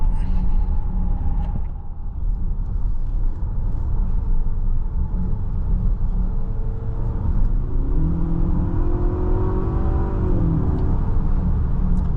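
Infiniti QX60 Luxe AWD with a 4-cylinder engine cruising at steady road speed, a continuous cabin drone of engine and road rumble with a rising whine as the transmission shifts partway through; no talking.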